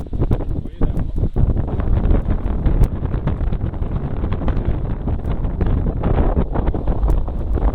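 Steady wind at sea rushes over the microphone aboard a sailboat on a transatlantic return passage in about 15 knots of breeze, a loud continuous roar with gusty buffeting and no speech.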